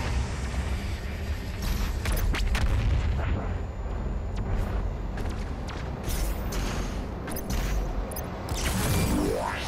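BFG 10,000 in Doom firing: loud, sustained roaring blasts with broad rumbling booms that fill the whole span, swelling and easing without a break.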